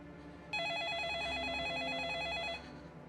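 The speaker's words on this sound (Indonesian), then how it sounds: "telepon di rumah itu berdering" Home telephone from the 2002 film The Ring rings with one sustained electronic warbling trill lasting about two seconds, loud and close, over a low background hum, with no speech.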